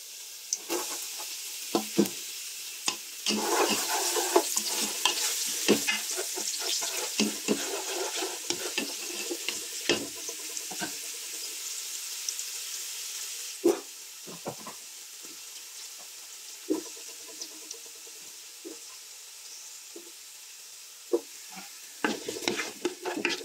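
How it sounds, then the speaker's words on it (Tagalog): Garlic and onion sauteing for pork ribs guisado, a continuous crackling sizzle close by, broken by frequent sharp scrapes and clicks of a utensil stirring in the pan, with no voices. "Ngayon ay magigisa na tayo ng bawang at sibuyas."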